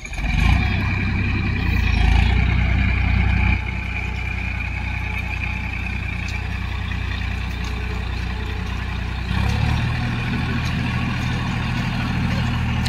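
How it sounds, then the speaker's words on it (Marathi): A tractor arrives at a rice field for paddy planting. Its engine makes a steady low rumble that swells louder at the start and again near the end, while voices talk nearby. "हे ट्रॅक्टर आलाय आता."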